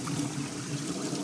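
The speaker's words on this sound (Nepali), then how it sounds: "अहिले चाहिँ पानी ठुलो आयो अहिले पानी दुईवटा पाइपबाट" Water pours steadily from two pipes at a freshly cleaned spring, making a continuous, close splashing rush with no breaks and no voices.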